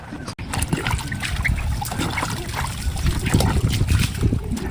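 Water trickles and splashes steadily while a motorcycle is washed, a continuous close wet spatter with scattered drips throughout.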